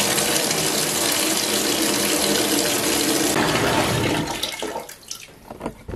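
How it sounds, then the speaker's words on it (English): Hot water gushes steadily from a shower or bathtub tap at close range and fills a container, then cuts off abruptly and leaves a few faint splashes and drips. "we're going to get some hot water. So hot water out of the shower or the tub is just fine."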